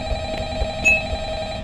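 Telephone ringing in the horror game Five Nights at Freddy's, a steady electronic ring tone sustained through the moment, fairly loud and alone.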